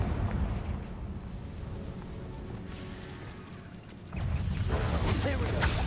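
A Confringo blasting spell bursts in Hogwarts Legacy: dense, rumbling game noise swells into a louder, sustained crackling blast near the end, filling the mix at close range.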